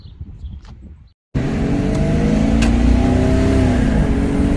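After a brief quiet moment, a car engine without aftermarket exhaust roars to life on a test drive and revs hard and steadily, loud and close, with no talking.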